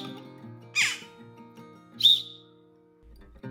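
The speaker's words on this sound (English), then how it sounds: "She is a jackdaw." A jackdaw gives two short, sharp calls about a second apart, close by, over a quiet background with a faint hum.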